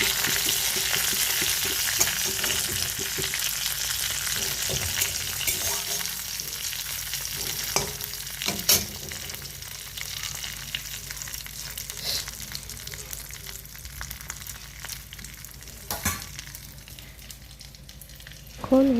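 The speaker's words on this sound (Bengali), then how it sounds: "কড়াইয়ে এখন আবার তেল দিয়ে জিরে, শুকনো লঙ্কা আর তেজপাতা ফোড়ন দিয়ে দেব" Cumin seeds, dried red chillies and bay leaves sizzle and crackle in hot oil in a wok, a steady close hiss with occasional sharp pops and the scrape of stirring, no voices.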